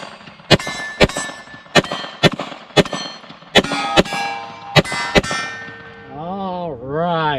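Sharp metallic clangs of bullets striking a small steel target plate, about a dozen irregularly spaced hits ringing out at a distance, followed by a brief wavering whistle-like tone at the end.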